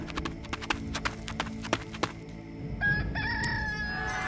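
A rooster crows in an animated Bible cartoon, a rising call following rhythmic hoof clip-clops, moderately loud against a busy background.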